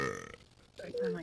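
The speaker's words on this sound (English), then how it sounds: "How do you burp like that, bro?" A loud, drawn-out burp erupts, then after a brief pause a second deep, gurgling belch rolls out, both close and forceful.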